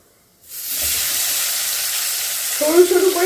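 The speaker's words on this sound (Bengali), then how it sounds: "ফোড়নে দেব 1 চামচ জিরে, ফোড়ন চুটপুট করে উঠলে দিয়ে দেব" Cumin seeds hit hot oil with a sudden hiss that settles into steady, close sizzling. Sharper spluttering crackles rise near the end.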